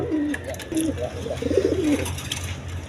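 Rajshahi giribaz pigeons coo in a series of soft, throaty low calls, several rolling coos close by over a steady low hum in a pigeon loft.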